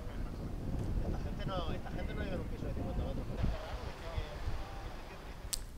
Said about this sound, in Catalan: Després de la pluja que ens ha afectat aquests dies, ha arribat el vent.